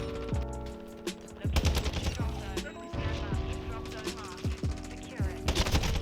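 Rapid automatic gunfire and sharp single shots crack in bursts throughout a Modern Warfare II match, layered over music and game effects, with a voice talking over the action.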